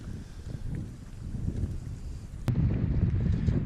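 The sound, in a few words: wind blowing at a lake while fishing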